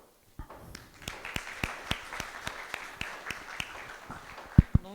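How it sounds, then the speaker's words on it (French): Sparse audience clapping for visiting university students at a tech meetup: a dozen or so distinct claps in a loose, slightly irregular rhythm, fairly quiet, ending with a couple of louder close claps. "Veuillez les applaudir."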